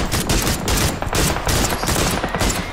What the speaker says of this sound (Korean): 님 총 쏘고 있는 거 맞죠?